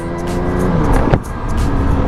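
Yamaha R7 sport motorcycle pulling away at low speed, a close, fairly loud engine rumble with a brief throttle blip midway, then settling into a steady low drone, no voices.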